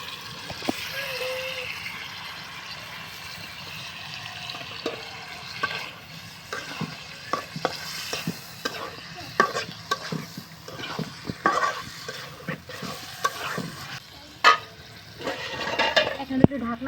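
Beef being stirred into a pot after the spices have been fried down, for a home-cooked Bengali dinner: steady frying sizzle with repeated scraping clicks of a spoon against the pot, close and moderately loud, with occasional voices.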